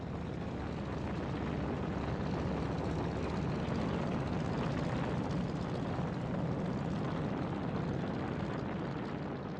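A B-29 bomber roaring down a runway on takeoff, a dense, continuous engine and propeller rumble that stays loud and steady throughout with no speech.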